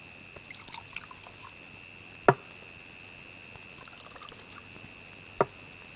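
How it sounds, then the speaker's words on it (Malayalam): A peg of liquor is poured into a glass, a faint, short pour over quiet room tone, marked by two sharp clinks of glass. "ഏതായാലും ഒരു പേക്ക് ഒഴിക്ക് സാറേ"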